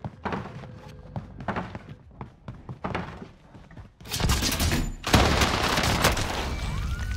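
Rapid Tommy gun fire in a Rebirth Island video game match, dense bursts of loud overlapping shots after a stretch of scattered thumps and lighter clatter.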